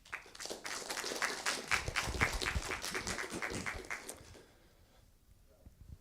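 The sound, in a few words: conference audience applause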